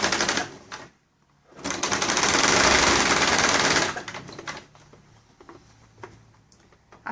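Up close, a sewing machine runs a steady burst of about two seconds, stitching the second seam of an invisible zipper. Quieter handling noises come before and after.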